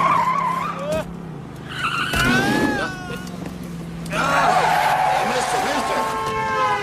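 A race car on a figure-8 track skids repeatedly, with loud tire squeals in several separate bursts over a rough engine rumble, and a voice speaking between them.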